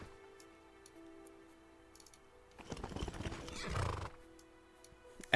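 A horse neighs and its hooves clip-clop in a loud burst lasting about a second and a half, over faint background ticking, as a standalone sound effect.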